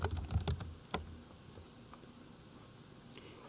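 Search terms typed on a computer keyboard, a quick burst of close clicking keystrokes followed by a few sparse taps amid quiet room noise.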